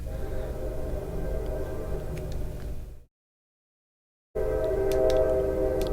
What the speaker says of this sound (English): here's the part where a train goes by